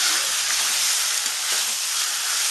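Mutton pieces with ginger and garlic sizzling and frying in a pan, a steady bright hiss that stays loud and even throughout with no pauses.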